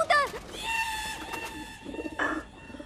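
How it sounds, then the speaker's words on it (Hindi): A pigeon gives a few short coos and calls, close and fairly clear, against light background noise in a royal palace scene from a Tenali Rama period drama. "एक और कबूतर।"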